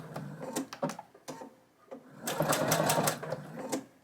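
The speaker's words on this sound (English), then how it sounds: "stitch a couple more stitches and then lock your stitch in place" Sewing machine stitching scrappy modern fabric coasters, running in short bursts and then a longer steady run near the end, with a faint voice at times.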